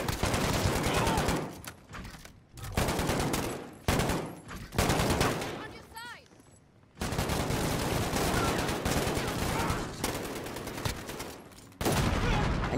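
Sustained automatic gunfire in a Modern Warfare Infected zombie match, loud rapid bursts broken by short pauses and a quieter lull midway, then resuming hard; players talk over it.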